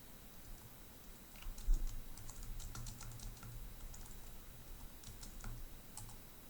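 Light typing on a computer keyboard, a quiet run of soft irregular key clicks with a slightly heavier tap early on, alone without talk.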